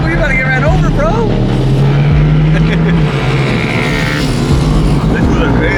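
An Audi R8 drives past on a city street, its engine note rising and falling loudly close by, with people talking excitedly over the roar.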